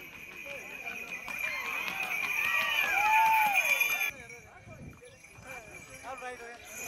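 Hooves pound in a quick rhythmic run during a traditional village kata horse race while a crowd murmurs and shouts in the background; voices rise over the scene.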